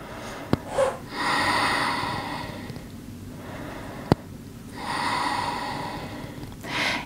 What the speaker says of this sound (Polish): Oddychamy tutaj.